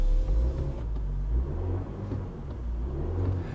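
An Alfa Romeo Tonale 280 hp plug-in hybrid pulls away in drive mode with a low, quiet rumble and whir, fairly faint and steady over a few seconds, with no talk.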